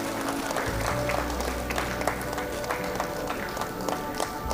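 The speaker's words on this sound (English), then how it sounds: "Round of applause, please." Audience applause at a university convocation ceremony as a graduate is called up, a steady, fairly faint patter of many hands running the whole stretch with a few louder individual claps, no voices on top.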